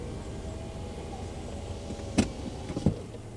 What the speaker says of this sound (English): Oh, put my window up!